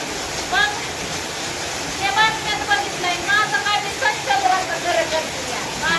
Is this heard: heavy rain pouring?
yes